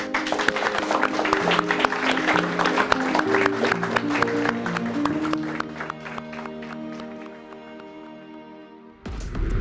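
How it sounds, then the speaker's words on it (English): An audience at a robotics competition kickoff broadcast applauds loudly, with music playing under the clapping; the applause thins toward the end before a brief louder burst. "Give yourselves a round of applause"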